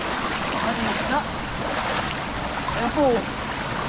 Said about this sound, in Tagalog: Ay napakalaki po ng tubig.